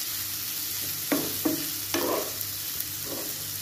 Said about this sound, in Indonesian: Nah, kalau sudah panas, kita tuang. Kita goreng sebentar saja.